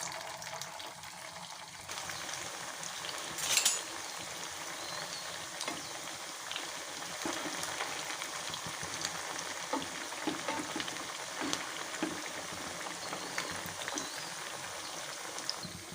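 Potato doughnuts dropped into hot oil and deep frying over a low flame, giving a steady, fairly faint bubbling sizzle that runs continuously with one brief clatter near the start.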